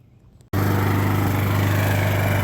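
A Briggs and Stratton 300e 125cc lawnmower engine with worn rings starts abruptly after a quiet moment and runs loud and steady with a strong constant hum, no voices.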